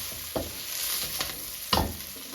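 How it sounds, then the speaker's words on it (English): Shallot strips stir-frying in olive oil over medium heat give a steady close sizzle, with a few sharper scrapes and clatters as the pieces are stirred and turned. "Just stir them around, turn them over. These are the shallots."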